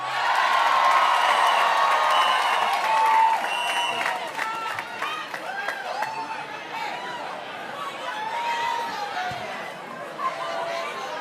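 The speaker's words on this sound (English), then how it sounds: "We've got a lively crowd tonight." A lively evening crowd at a mayoral proclamation event in New York applauds and cheers loudly at first, then settles into a steady murmur of chatter and scattered voices.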